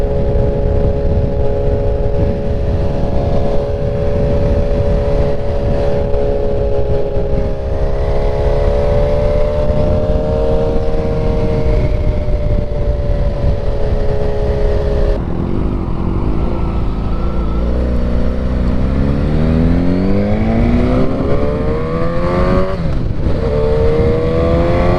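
2024 Suzuki Katana motorcycle fitted with a full exhaust and tune, roaring loudly and continuously while revving through rising and falling engine pitch.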